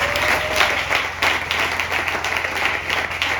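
A crowd at a youth convention applauds and cheers for several seconds in a dense, continuous wash of clapping, with a few whoops rising above it and no speech.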